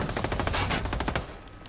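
Rapid automatic gunfire in a Ghost Recon Breakpoint raid boss fight against Titan Zeta (Cerberus), dense loud bursts of shots throughout that thin out near the end.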